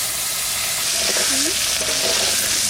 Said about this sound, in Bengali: ওই তেলের মধ্যে আলুগুলো দিয়ে দেবো।